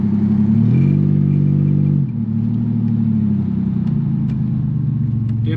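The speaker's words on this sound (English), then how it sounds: "Now I'm just breaking in these front brakes." Engine of a Chevrolet Camaro, back on the road after 20 years, drives steadily while its front brakes are broken in, a continuous low rumble with a rise in pitch early on, then a dip and steady cruising tone.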